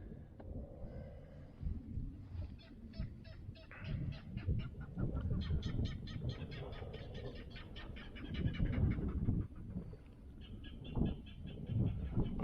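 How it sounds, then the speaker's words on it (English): Goose-like honking calls repeat from a bird near the water during a kayak fishing trip, a steady run of nasal cries at moderate distance over faint background noise. "Bird's over there laughing at me."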